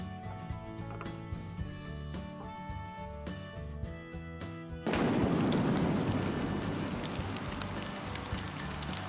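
Steady rain falls outdoors, a dense hiss that begins abruptly and holds evenly to the end, laid over a gentle musical background.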